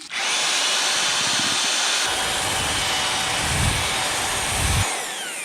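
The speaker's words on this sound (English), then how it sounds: "Got a large mixing drill here." A large heavy-duty mixing drill churns a bag of ceramic tile mortar, a loud steady motor whine with grinding paddle noise running throughout, briefly surging near the end.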